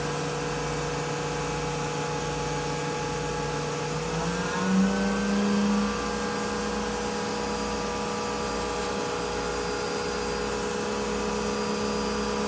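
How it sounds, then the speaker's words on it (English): A CNC router spindle cutting a circle runs with a steady, close whine and rises briefly in pitch as the speed is ramped up toward 12,600 RPM, then holds a constant drone. "So we're just cutting a circle. Ramp the spindle speed up a bit."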